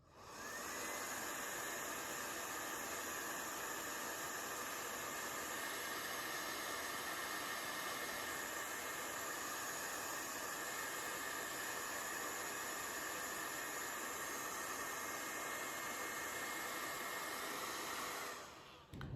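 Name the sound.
blow dryer on cool setting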